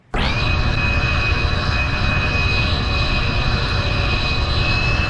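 Twin Junkers Jumo jet engines of a Me 262 in BeamNG spool up sharply from near silence into a loud, steady whine with a rising tonal scream held at full power, no talk over it.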